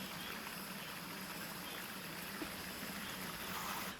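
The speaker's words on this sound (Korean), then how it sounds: "길 옆으로 시원한 계곡이 흐르니" A mountain stream runs steadily beside a forest path, its continuous watery rush and trickle close by and constant with no voices.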